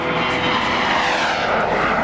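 A stealth airplane roars steadily overhead, a loud broadband engine rush that fills the whole moment without pause.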